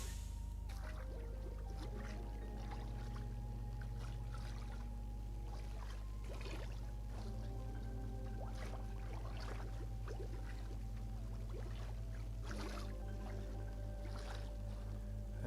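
Water pours and sloshes against glass while windows are cleaned with a squeegee, a steady wet splashing and trickling up close that runs through the whole stretch with no talk.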